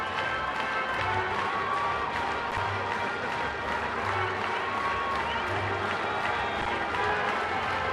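A baseball crowd at Petco Park, San Diego, stirs with excited cheering and scattered clapping during a Cardinals–Padres game in May 2013, a broad noisy murmur with speech mixed in.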